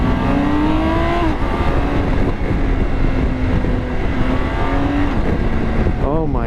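A 2023 BMW K1600 GTL motorcycle in sport mode pulls hard and loud, its engine note climbing through rising gear sweeps with shifts along the way, with speech partly audible over it.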